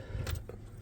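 Keys jangling briefly as the ignition key is turned on in a 1939 Chevrolet Master Deluxe, a short quiet metallic rattle with a soft click, close by, no talk.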